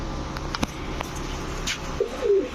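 High flyer Giribaz pigeons give a short low coo near the end, after scattered soft clicks and rustling in the loft.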